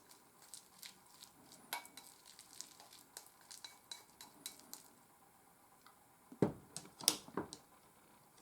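A spoon stirs sticky natto and miso together in a bowl, with cucumbers added alongside, making faint scraping and light clinking taps against the dish in a quiet room.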